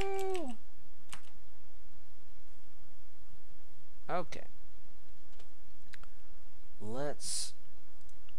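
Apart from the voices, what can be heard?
typing a password on a computer keyboard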